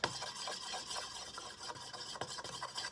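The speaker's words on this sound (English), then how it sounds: "I'm just gonna stir this" Steady rasping and scraping of a utensil stirring a homemade blue hair dye mixture in a bowl, close and continuous with small rhythmic strokes, no talking.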